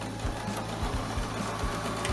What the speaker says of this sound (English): pop it underneath your sewing machine on a straight stitch